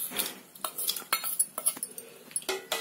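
Tender coconut flesh stirred into payasam with a metal spoon, producing quick, close scraping and clinking against the pot in an irregular rhythm.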